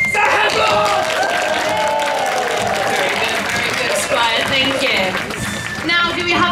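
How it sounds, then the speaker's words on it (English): Crowd at a Warwick Castle dragon slayer show bursting into applause, cheers and whoops for Sir Havelock, loud and close, with excited voices calling out over the clapping. "we're all going to explode into rapturous applause"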